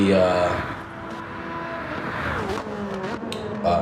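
Race cars in Gran Turismo 7, a steady engine drone with shifting revs as the cars run through a turn, a driver talking over the continuous motor noise.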